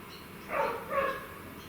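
A dog barking at feeding time in the distance, two soft muffled barks over steady background noise, no talk.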